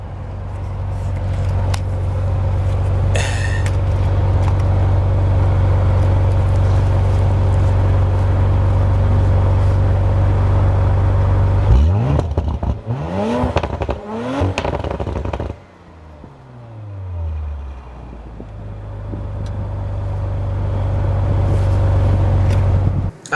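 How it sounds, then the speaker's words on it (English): Exhaust of a 2019 Audi RS5 coupé, a loud steady drone that climbs through a sharp revving sweep, drops with crackling pops on lift-off, then settles back into a deep sustained rumble. "let me go ahead and give you guys one more exhaust clip real quick"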